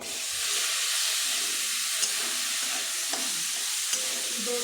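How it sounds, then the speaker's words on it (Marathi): Ridge gourd dropped into hot oil with turmeric, red chili and Kashmiri chili powder, giving a loud, steady sizzling hiss with a few faint clinks of stirring, close and continuous with no talk. "याच्यामध्ये टाकणार आहे मी दोडका"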